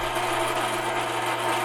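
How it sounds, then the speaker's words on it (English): A drill press spins a brass wire brush to clean a part from a 1955 Triumph TR2 distributor or fuel pump, giving a steady, even whirring hum with a scratchy brushing hiss throughout. "I also use the drill press with a brass brush in it"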